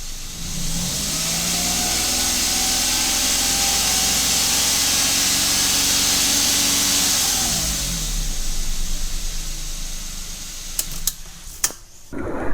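A car's diesel engine runs just after a cold start, a steady loud mid-pitched drone that eases down partway through, followed by a few sharp clicks and knocks near the end, with no talk.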